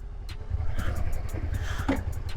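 A 2003 Suzuki SV 650 motorcycle engine runs steadily nearby, a low, continuous idle throb with faint mechanical ticking throughout.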